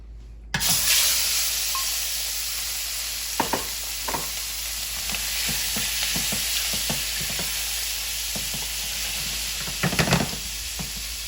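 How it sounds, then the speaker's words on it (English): Shrimp are added to a preheated pan with about two tablespoons of oil and sizzle loudly and steadily, the hiss filling the whole stretch, with occasional spatula clicks and stirring knocks. "I have a pan preheated. We'll add about 2 tablespoons of oil. And let's add our shrimp."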